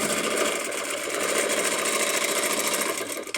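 A sewing machine stitching steadily while free-motion quilting a border, a continuous close, loud mechanical whir with a rapid needle rhythm and no talk.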